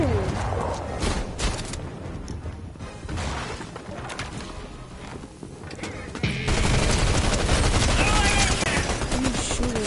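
Video game gunfire, a rapid automatic rattle with crashing impacts, loud and sustained throughout. The shooting swells to its heaviest in the final few seconds and carries on without pause.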